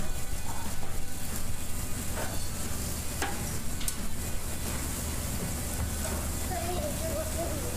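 Eggplant slices sizzle steadily on a grill with a constant hiss, broken by a few soft clicks and scrapes as the pieces are turned over; a voice talks over the cooking.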